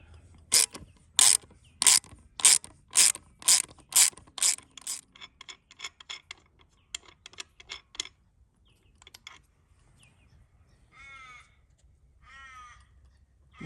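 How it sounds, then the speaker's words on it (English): Hand ratchet backing off a bolt on a Barra engine during a valve spring upgrade: a rapid run of sharp, loud clicking bursts in even rhythm, then lighter scattered clicks and small metallic handling noises fading toward quiet. "So I'll back off the bolt."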